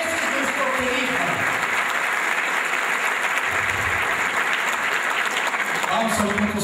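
A church congregation claps during a Spanish-language sermon, giving sustained, dense applause for the whole stretch, with a voice speaking over it.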